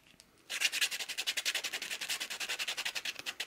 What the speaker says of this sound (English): we want to use a piece of sandpaper